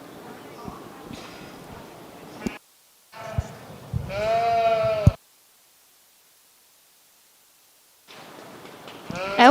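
Lambs at a livestock show bleat in short, wavering cries, one loud and close, another starting near the end, amid crowd murmur and a voice talking, with a silent gap between.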